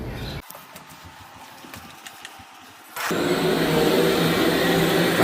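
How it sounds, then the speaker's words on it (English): A vacuum cleaner deep-cleaning a dirty rug: after a few seconds of quiet with light knocks and handling, the motor starts up with a loud, steady whine and roar that holds to the end. "Get the vacuum."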